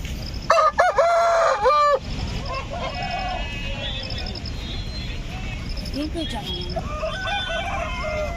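A rooster at the Gudur chicken market gives one loud, close crow lasting about a second and a half, then the market carries on with people talking, scattered clucks and faint fowl calls.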